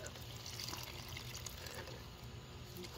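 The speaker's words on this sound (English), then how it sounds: "And then we give extra water." Water pours steadily onto a potted pandan cutting as it is watered, a continuous splashing trickle that runs the whole time.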